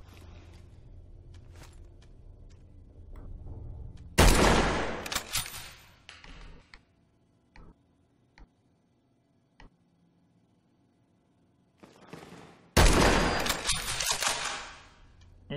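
Two loud bursts of .308 rifle fire from a ten-round magazine in Fallout 4, each a sharp crack with a ringing tail, separated by quiet stretches with faint mechanical clicks and handling noises.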